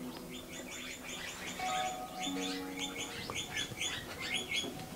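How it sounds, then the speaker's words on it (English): Mulga parrots flocking in the Australian outback: a steady stream of overlapping high chirps and whistled calls, moderately close, with a low background hum and no talk. "A lot of marga parrots coming in."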